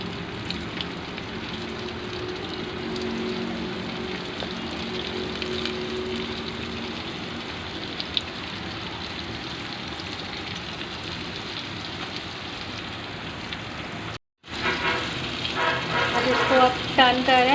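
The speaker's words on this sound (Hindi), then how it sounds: "जी, तो अब हम कोटेड विंग्स को फ्राई कर लेंगे।" Coated chicken wings deep frying in hot oil, a steady dense sizzle and crackle throughout, briefly cut off near the end before a louder bubbling burst, with faint speech under it.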